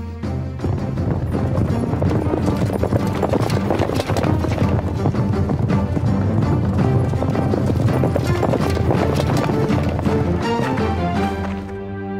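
Several horses trot at a steady, busy clip-clop, loud and continuous with dense hoof beats, with no talk over them.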